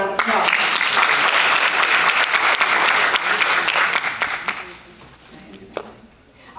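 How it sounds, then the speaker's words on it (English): Audience applause at an ombudsman graduation ceremony, a dense sustained clapping that swells loudly for about four seconds, then thins out and fades to scattered claps with a few voices murmuring underneath. "Let's give her another round of applause."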